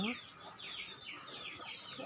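Chickens clucking and calling while feeding on scattered feed in summer heat, a hen's repeated clucks rising over a quiet, faint background.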